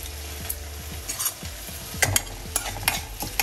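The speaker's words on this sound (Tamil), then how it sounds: "புளியும் போட்டு அதோட வதக்கின்றோங்க" Radish thogayal with tamarind sautéing in a pan: a steady low sizzle under repeated scraping strokes of a spatula against the metal, close and rhythmic, with no talking.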